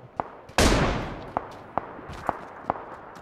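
A loud, close gunshot booms in the PUBG Lite video game and trails off in a long decaying rumble. Short, regular clicks or distant pops tick along before and after it.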